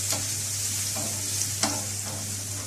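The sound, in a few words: garlic cloves sizzling as they are added to the pan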